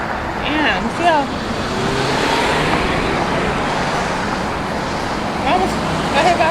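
Busy street traffic with cars and buses rumbling steadily nearby, one car sweeping close past a pedestrian walking to a burger restaurant, with people talking over the noise.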